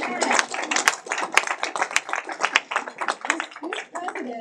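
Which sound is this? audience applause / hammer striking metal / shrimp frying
audience applause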